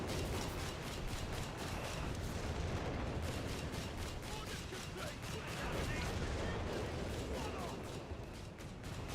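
Artillery barrage in Company of Heroes 3, with dense rumbling shell impacts and booms rolling continuously and loudly, a steady chaotic wall of explosive fire, with voices talking over it.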